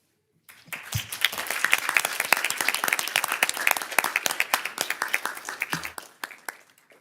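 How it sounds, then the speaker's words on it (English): A modest group applauds at a school board of education meeting, after guests are asked to stand. Distinct individual claps begin abruptly, swell into a brisk, fairly close round and thin out toward the end. "So we can give them a round of applause."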